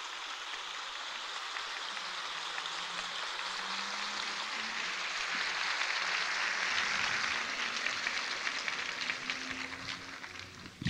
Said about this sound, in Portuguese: Agora pode aplaudir o Senhor para valer.